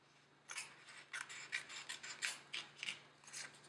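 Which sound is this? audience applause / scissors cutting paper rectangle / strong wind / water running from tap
scissors cutting paper rectangle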